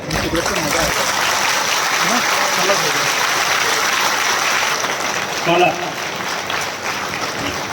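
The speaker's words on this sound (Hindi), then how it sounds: "सारे बच्चे खड़े होकर के एक बार ताली बजाएं" College students at an awards ceremony in Gonda stand and applaud after a song, a sustained dense clapping crowd with voices mixed in.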